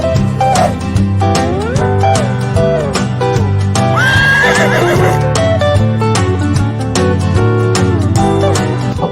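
A horse neighs loudly in a long whinny played over a stream, with a brief hoof clip-clop, all laid over a steady musical backing that fills the whole stretch.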